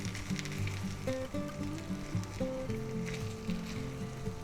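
Ham, egg and cheese sandwich frying in a pan, a steady soft sizzle with faint crackles running throughout, quiet and close, with no voices.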